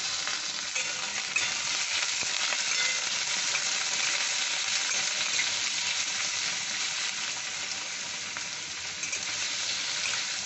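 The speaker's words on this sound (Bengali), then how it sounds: "আলুটা একটু ভাজা ভাজা হবে" Small raw potato pieces fry in a pan for a Bengali banana-stem curry, giving a steady, dense sizzle with faint stirring that holds evenly throughout with no voices.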